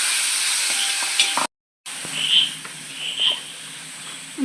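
Dates fry in a pan for a neyykatt sweet from Alappuzha, a quiet, soft sizzle with occasional stirring scrapes and a brief silent gap partway through.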